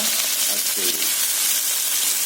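Mint leaves frying in a hot pan for chutney, giving a steady, close, loud sizzle with a broad hiss that lasts throughout and a brief voice near the start.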